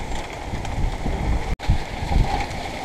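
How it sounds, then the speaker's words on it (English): Steady windy hurricane rain with broadband hiss and low gusty rumble, a brief dropout midway, continuous and close with no voices. "It's windy, it's raining."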